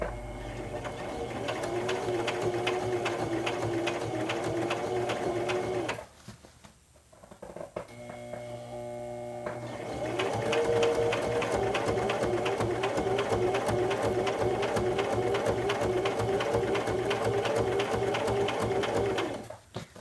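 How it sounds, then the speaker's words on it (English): A sewing machine stitching the shoulder straps of a 1940s-style pinafore dress runs in a steady close whir, pauses for a few seconds with faint clicks, then resumes for a long even run, no talking. "Now I am almost to where I'm rejoining the other line of stitching"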